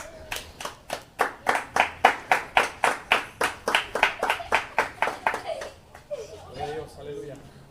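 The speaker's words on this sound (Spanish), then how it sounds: "Dale un aplauso al Señor." A church congregation claps together in a fast, steady rhythm, about a dozen crisp beats, before the clapping thins out and a few voices murmur at the end.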